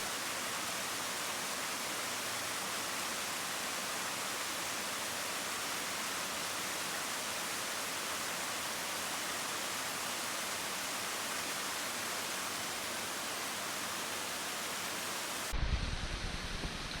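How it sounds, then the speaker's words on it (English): Steady, broadband roar of a waterfall cascading down a forest trail in a regional park, loud and constant throughout with no letup, ending in a brief lower rumble of wind or handling noise. "Here we are at the waterfall."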